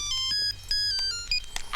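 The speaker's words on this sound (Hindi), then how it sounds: "मेरे बंसल साहब का फोन है, जरूरी काम होगा।" A mobile phone ringtone plays a bright electronic melody of repeated high tones, loud and close indoors, with a low hum underneath.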